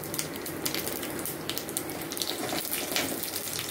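Green chillies going into hot oil tempered with five-spice seeds give a steady, hissing crackle that stays even and close throughout, with no talking.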